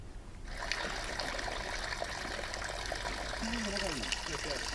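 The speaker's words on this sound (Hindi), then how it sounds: "इसी पहाड़ से दूध की धारा निकलने लगी है" Milky white water streams steadily out of a hillside in Kangra, a constant close trickle and gush with a faint voice underneath.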